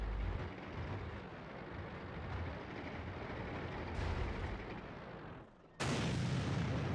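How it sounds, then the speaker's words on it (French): Artillery fire in a tank video game, a loud sustained rumbling blast that dips briefly and then returns with a sharp new boom. "L'artillerie a tiré."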